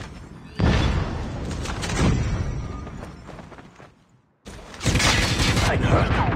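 A frag grenade blast and bursts of gunfire in Call of Duty Mobile's Search and Destroy mode: a heavy thump opens a loud stretch of rattling shots, then quiet before another loud, dense volley closes things out.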